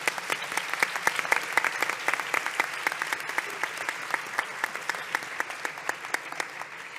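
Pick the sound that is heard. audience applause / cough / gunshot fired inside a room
audience applause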